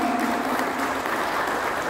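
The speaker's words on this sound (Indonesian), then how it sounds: "Tepuk tangan dong" Audience applause at a university seminar of the 889 student regiment battalion, a steady dense clapping from a crowd filling the whole moment without pause.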